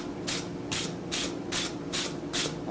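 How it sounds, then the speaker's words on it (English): A wire brush scrubs freshly forge-welded hot steel scroll work with six rough, scratchy strokes in a steady back-and-forth rhythm. The strokes are close, over a low background hum from the forge. "right after I brush this scroll work here that's been welded"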